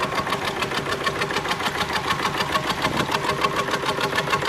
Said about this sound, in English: Another diesel, another Southern Cross diesel. 4 horsepower.